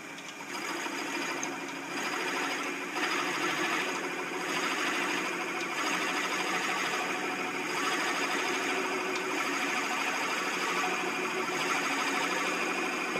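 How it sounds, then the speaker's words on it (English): Wood lathe spinning at roughly 600 to 800 RPM during a spoon bit turning demo, a steady continuous mechanical whir with a constant hum and faint rattle, close and alone with no talking. "I'll turn the lathe on, and hopefully you can hear the speed of the lathe"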